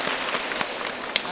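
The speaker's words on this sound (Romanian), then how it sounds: "Hai să aplaudăm pe toată lumea." Brief, steady applause from an audience at a school awards ceremony, a dense wash of many hands clapping at moderate volume.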